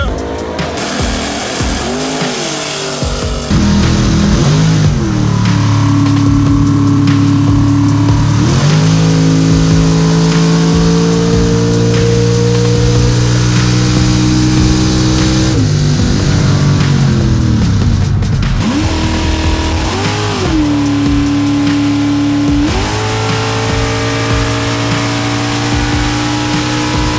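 An NHRA drag race car doing a burnout in the burn box at Brainerd, a loud roaring engine revving up and holding high with screeching tires, dropping and surging again over a long stretch.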